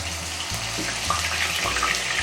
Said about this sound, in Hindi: अब इसके अंदर मैं 1 चम्मच अदरक, लहसुन और हरी मिर्च का जो पेस्ट है ये डालूंगी